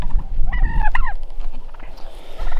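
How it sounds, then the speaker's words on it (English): Rio Grande wild turkeys gobble in a crowded pen, with a couple of loud rattling gobbles close by over a rumbling, gusty background and fainter calls from other birds. "Look at all these turkeys everybody."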